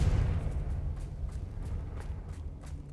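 Confringo blasting spell going off in Hogwarts Legacy during a fight with giant spiders, a heavy low rumbling blast that opens loud and rolls on steadily with faint repeated thuds underneath.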